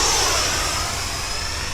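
An FMS Su-27 Flanker RC model jet with twin 70mm ducted fans flies past with a loud, continuous high-pitched whine that slowly fades, with no voices.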